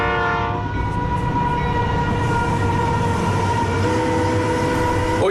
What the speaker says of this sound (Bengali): এসে গেছে তোর ট্রেন।